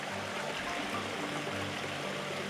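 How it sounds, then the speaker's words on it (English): A forest stream near a waterfall, a steady broad rush of flowing water that stays even and close throughout, with no talking. "I think this might be the stream that has the waterfall."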